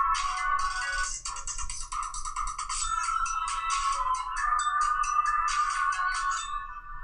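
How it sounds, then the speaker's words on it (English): A phone ringtone plays on and on unanswered, a bright electronic melody repeating in steady phrases for several seconds, clear and fairly loud over a low background hum. "Do you know anybody that gets like weirded out by a ringing phone that remains unanswered?"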